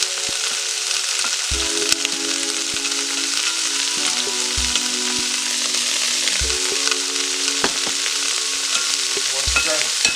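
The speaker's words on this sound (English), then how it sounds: "now I'm going to throw my vegetable in the pot" Vegetables sizzle and fry steadily in a hot pot, a dense continuous hiss broken by periodic stirring knocks, loud and close with no talking.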